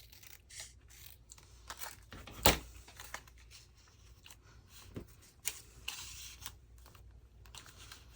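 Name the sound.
cutting paper with scissors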